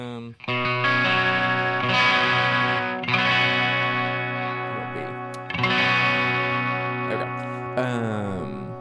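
A sustained electric guitar chord through a vibrato and cassette effect wobbles with a warbly, slightly degraded tape-like tone, strummed a few times and ringing out.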